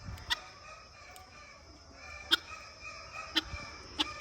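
Faint chickens clucking with a few short, sharp bird calls at intervals, heard from a distance in a quiet setting.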